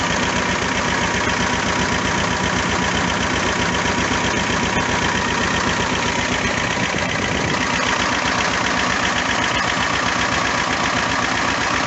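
An old Vladimirets T-25 diesel tractor engine idles steadily with a rapid low chugging pulse, loud and close, running continuously without voices.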